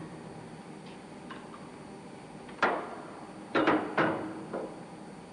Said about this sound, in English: tap it lightly with a tin hammer